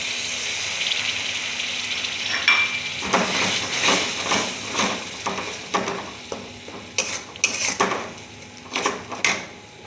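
Mustard, fennel and green chilli paste sizzles in a hot pan with a splash of water while being stirred, the scraping strokes repeating steadily over a continuous frying hiss, close and fairly loud, for a prawn malai curry.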